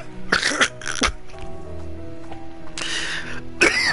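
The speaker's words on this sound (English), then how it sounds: "That was a bad or good timing for a coughing fit." A person has a coughing fit: a few sharp, harsh coughs and throat clears come close to the mic, with a short quieter gap between the bursts.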